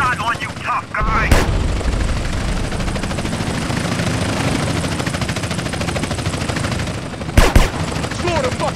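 Rapid gunfire rattles through a drive-by in GTA San Andreas, loud sustained bursts over a rumbling engine, with a couple of sharp louder shots near the end and shouted voices mixed in.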